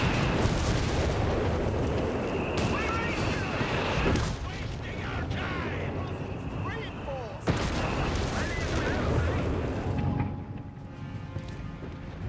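Heavy gunfire and explosions from a Company of Heroes 3 match roll on continuously, with dense crackling bursts and booms that drop briefly near four and ten seconds before resuming, while a commentator talks underneath.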